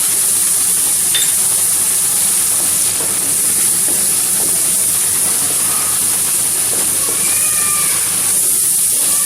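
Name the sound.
frying chili powder, turmeric and salt for daal mash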